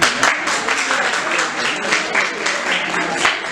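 Loud close applause from attendees at a legal career counselling workshop, a thick continuous patter of clapping with some crowd murmur throughout.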